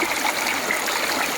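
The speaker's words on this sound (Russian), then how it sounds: "тут есть ручей." A mountain stream flows through a gorge in Dagestan, its water rushing and splashing in a steady, close, continuous babble with no voices over it.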